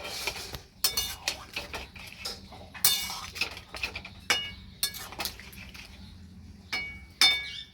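A utensil stirs chicken sprinkled with garam masala in a metal pot, giving sharp, irregular clinks and scrapes against the sides, close and fairly loud, spaced across several seconds, with no talking.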